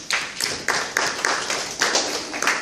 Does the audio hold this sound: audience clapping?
yes